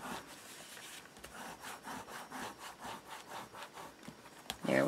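Paper pages of a wedding mini album being burnished with a tool, a steady, quiet rhythmic rubbing and scraping, close and alone, ending with a brief louder knock.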